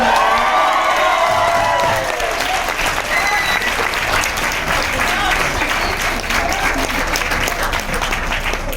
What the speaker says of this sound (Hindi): अरे बजा दो ताली ढोल।